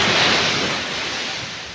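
Steady broadband wash of surf rolling in, loud and continuous, with a hiss of breaking water and slight wind, no voices.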